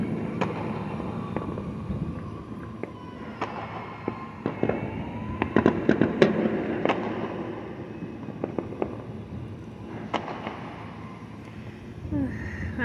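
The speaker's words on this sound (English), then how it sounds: "So many fireworks." Fourth of July fireworks popping and crackling in the distance, scattered sharp bangs at irregular intervals over a steady low rumble, with a loose cluster in the middle.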